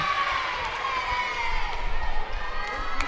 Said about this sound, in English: And the Jurong girls were cheering